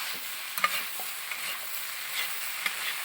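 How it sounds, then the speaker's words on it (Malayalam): Mixed vegetables including cauliflower and green peas stirred into masala for vegetable kurma, a soft muted sizzle broken by a few sharp spoon clicks and scrapes against the pan. "ഇളക്കി അങ്ങോട്ട് മസാലയ്ക്കകത്ത് അങ്ങോട്ട് ചേർക്കാം."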